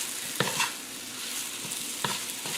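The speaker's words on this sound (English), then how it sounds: "we just immediately throw in the sweet potato" Sweet potato sautés in a hot pan with a soft, steady sizzle, broken by two brief scraping stirs of a utensil, close and moderately quiet.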